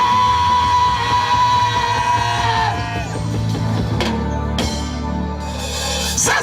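A congregation at a French-speaking evangelical crusade shouts Amen together in a loud, sustained crowd roar that fades and swells again, with no single voice standing out.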